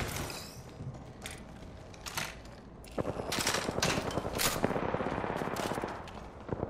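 Automatic gunfire in the Apex Legends video game, rapid bursts of shots in quick rhythmic volleys that grow denser and louder partway through, close and sharp over game ambience.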